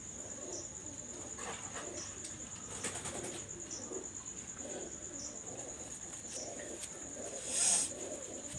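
Teddy golden pigeons coo softly in a low, repeated murmur, faint against a steady background hiss with a high tonal whine running throughout.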